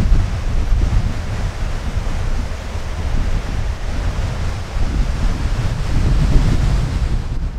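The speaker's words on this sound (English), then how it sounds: "you can see how windy it is today" Strong wind on a Macedon Ranges hiking trail roars steadily and loudly against the microphone, a dense, rushing low rumble that never lets up, with no talking.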